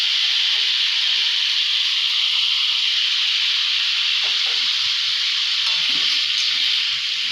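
Papaya being stirred in a pan with hot mustard oil gives a steady, loud, hissing sizzle that continues without a break, with faint stirring movements beneath it.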